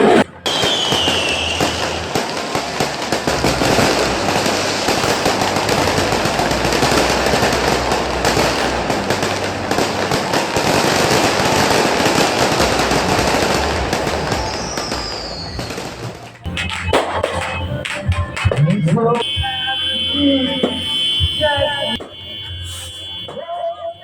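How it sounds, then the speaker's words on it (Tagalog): Rapid, dense crackling and booming of New Year fireworks for about fifteen seconds, then scattered pops with beeping, whistling tones and distant bangs. "Pagkatapos namin sa fireworks namin, lumabas din kami sa labasan para tumingin din ng fireworks ng iba."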